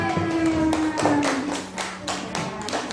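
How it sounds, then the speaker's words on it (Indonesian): A primary school class claps hands after a lesson game in Indonesia. Several sharp, loud claps ring out at irregular intervals over a faint sustained tone. "tepuk tangan"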